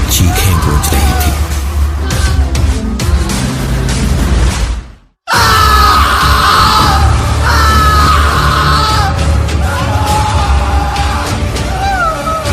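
Loud, sustained screaming from a man, dramatized in an audio story, overlaid with music and effects, with a brief dropout to silence midway before the intense screaming resumes.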